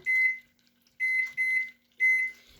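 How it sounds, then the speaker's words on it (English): A kitchen timer beeping as it is started, four short electronic beeps in an irregular pattern, close and clear against a quiet room. "Let's get the timer going."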